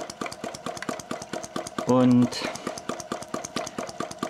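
A home-built miniature model engine runs with a fast, even ticking beat, fairly close and steady, while someone speaks over it and a brief louder buzzing burst cuts in midway.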